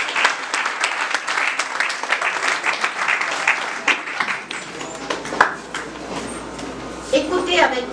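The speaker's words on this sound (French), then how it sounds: "Vos acclamations bien nourries, je vous en prie." Dense applause from a conference audience at a gathering of spiritual organisations, steady crowd clapping for several seconds with some voices mixed in, thinning slightly toward the end.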